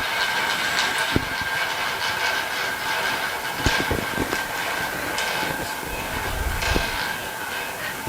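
A roulette wheel spins with a steady whirring rumble while the ball clatters and ticks in scattered bursts, close and fairly loud throughout.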